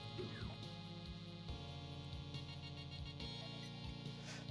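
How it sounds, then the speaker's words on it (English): Rabid dogs in the video game Doom yelp and snarl over steady droning game music, their barks and whimpers coming in short repeated bursts at moderate loudness. "roaming gangs of rabid dogs"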